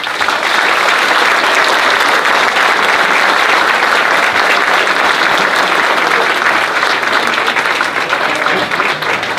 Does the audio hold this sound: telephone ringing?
no